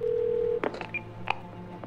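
Telephone dialing in the video game 12 Minutes: a steady tone gives way to a quick series of short keypad beeps, clear and close.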